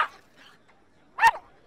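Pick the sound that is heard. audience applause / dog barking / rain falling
dog barking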